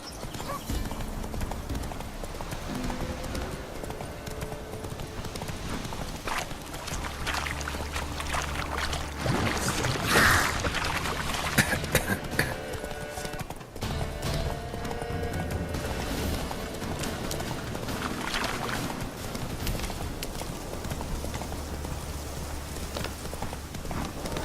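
Horse hooves clip-clop at a steady trot in The Witcher 3 video game, rhythmic and continuous across the whole stretch, with game ambience and splashing noise around them.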